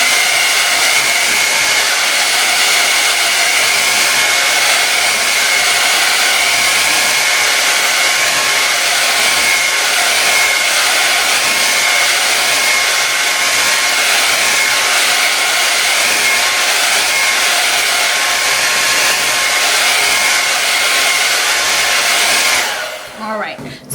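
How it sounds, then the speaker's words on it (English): A hair blow dryer drying layers of paint on a planet painting runs with a loud, steady roaring whoosh for over twenty seconds, then cuts off at the end. "I'm gonna dry it with a blow dryer."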